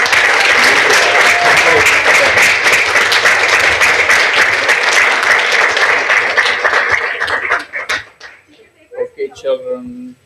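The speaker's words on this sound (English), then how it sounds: "Can we give the kids one more big round of applause?" Audience at a Bala Vihar children's assembly gives a loud, sustained round of applause for the kids, dense clapping lasting about eight seconds before fading into scattered claps and a few voices.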